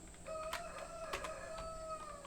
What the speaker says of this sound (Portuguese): Um canta aqui, outro canta lá, um é filho do outro. Os dois têm a cola branca, os galos.